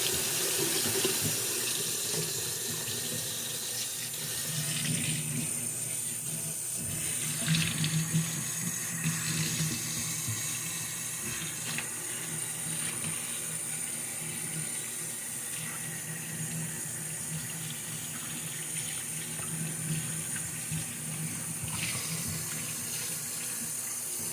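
Tap water runs steadily into a sink as beef brisket is rinsed off, a continuous close splashing hiss with small shifts in flow and no talking.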